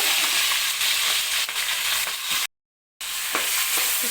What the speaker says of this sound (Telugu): కొంచెం ఉల్లిపాయ పచ్చిమిర్చి అయితే వేసుకోవాలి అవి కూడా మంచి గోల్డెన్ కలర్ వచ్చేదాకా వేయించుకున్నా